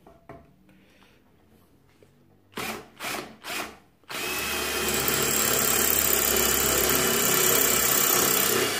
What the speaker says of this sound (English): And next I have this brick, and let's drill it.